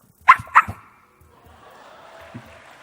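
A person imitating a dog bark with their voice, two quick loud yaps close to the mic, then a fading breathy whimper and a soft short yip.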